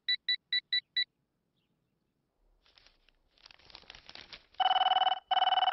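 An old-style telephone bell rings in five quick bursts, then falls silent before louder electronic-sounding tones and noise build up near the end of a comedy film scene.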